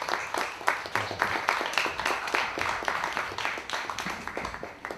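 An audience at a conference on art applauds to welcome a speaker, a fairly faint patter of distinct individual claps in a quick rhythm that rises and dips slightly.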